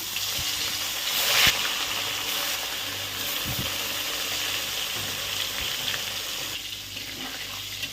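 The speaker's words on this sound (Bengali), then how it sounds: "কড়াইয়ে তেল দিয়েছে, প্রথমে দেখানো হয়নি। হ্যাঁ, এবার আমি দিয়ে দিব মাছ।" Fish frying in hot oil in a kadai, a steady loud sizzle with crackling spikes, a brief burst of spatter early on, running continuously without talk.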